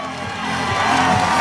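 Crowd in the TLT Theatre at a Cage Legacy cage fight cheering for the winner, a loud, swelling roar of cheers and whoops building steadily.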